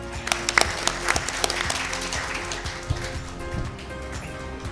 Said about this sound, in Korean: 브릭스 인디아의 임태현 사장님을 뜨거운 박수로 모시겠습니다